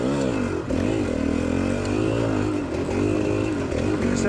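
A GPX motorcycle engine pulls steadily in third gear on a rocky quarry track, a loud, close, continuous drone with gently rising and falling revs and a brief dip partway through.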